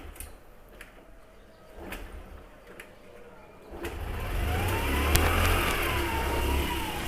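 Honda 50cc Super Cub motorcycle, unused for a year, cranking with faint mechanical ticks, then catching and running with a rising, steady buzzing engine note that grows louder and holds.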